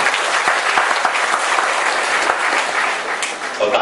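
An audience claps together in a dense, sustained burst of applause that stays loud and even before thinning slightly at the very end.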